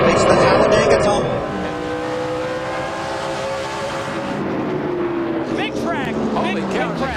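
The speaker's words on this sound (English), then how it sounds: "Elliott Sadler makes the Talladega tumble" A NASCAR stock car tumbling and crashing on the track at Talladega, loud engine roar and crowd noise dominating throughout, with an announcer talking over the race sound and a sharper burst of activity near the end.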